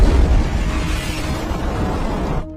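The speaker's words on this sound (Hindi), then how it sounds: "बॉबी ने उसे लात मारकर झील में डाल दिया, लेकिन उसे पता नहीं था कि बाद में जोरदार धमाका होगा।" A firecracker kicked into a lake goes off with a loud, heavy blast, followed by a rolling roar that lasts about two seconds before cutting off.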